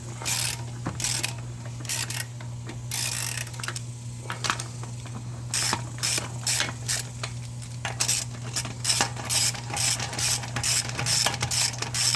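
Ratchet spinning wheel lug nuts onto a 2012 Nissan Altima wheel, heard as repeated bursts of rapid clicking over a steady low hum, close and fairly loud, with no talk.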